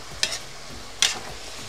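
Bigos cabbage stew is stirred in a cauldron over an open fire, two quick scraping strokes over a soft steady simmer, with no talking.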